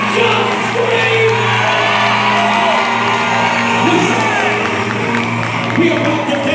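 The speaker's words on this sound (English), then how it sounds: "I need some folk who are not afraid to just open your mouth and just scream." A church congregation at a live recording screams, whoops and yells together, a loud sustained crowd roar with scattered shouts and some voices underneath.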